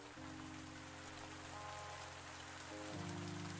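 Steady rain pattering in the farming video game Pumpkin Days, a soft even hiss under sustained music chords that shift partway through, with no talk.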